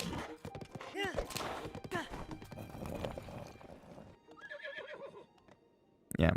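A horse in a Zelda video game whinnies loudly, with a couple of clear neighs and hoof clip-clops over game sounds, followed by quieter ambience and a sharp burst at the end.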